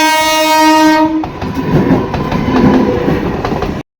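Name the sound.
train passing at a railway level crossing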